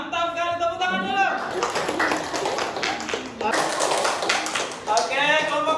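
A classroom group claps in a quick, rattling burst of hand claps that swells and fades in waves, mixed with cheering voices and a teacher speaking over it at the start and end.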